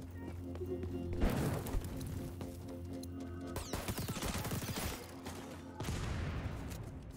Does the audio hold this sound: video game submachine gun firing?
yes